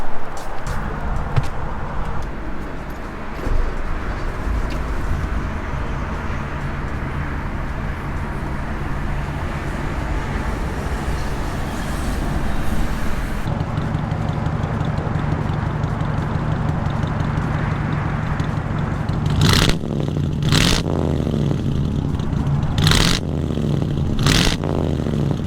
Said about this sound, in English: I'm going to start the car so you can hear how nice it is